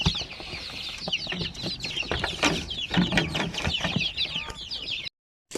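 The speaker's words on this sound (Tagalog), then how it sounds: "punta tayo sa ating mga Shamu Asil na mga sisiw naman" One-month-old Shamo Aseel chicks chirp busily, a dense overlapping chorus of high, quick peeps close by, continuous with scattered louder calls and some scratching, no talking.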